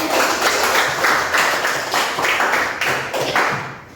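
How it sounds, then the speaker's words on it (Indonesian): Classmates clap after a student presentation on formatting fonts in a classroom lesson, a busy patter of hands filling about four seconds with steady density before tapering slightly near the end. "kita tepuk tangan"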